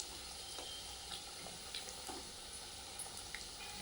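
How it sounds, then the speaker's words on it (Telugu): Pieces of prawn fry slowly in oil, giving a steady, soft sizzle that runs the whole time with a few faint pops and no voices. "ముక్కలు నిదానంగా ఫ్రై చేసుకోవాలి మెల్లగా, కొద్దిగా సేపు అయ్యేదాకా."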